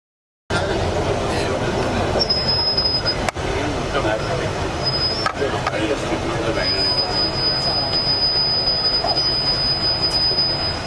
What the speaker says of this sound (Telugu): హైదరాబాద్ మెట్రో రైల్లో ప్రయాణించిన రామచంద్రరావు కారు వదిలి తార్నాకా నుండి జూబ్లీహిల్స్ వరకు మెట్రోలో ప్రయాణించారు